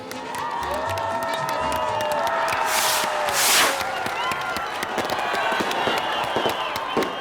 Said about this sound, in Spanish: Ese hombre es Eduardo Guerrero. Un aplauso, por favor.